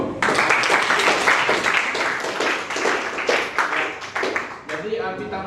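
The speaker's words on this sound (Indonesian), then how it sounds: "kita kasih aplaus untuk Bairu dengan Agung" An audience claps for a classroom presentation at IAIN Palangkaraya, a dense burst of applause that runs for several seconds before thinning out and fading near the end.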